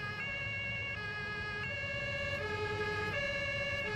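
An emergency vehicle siren in the video game Farming Simulator 19 wails continuously, its pitch stepping up and down in a repeating two-tone cycle.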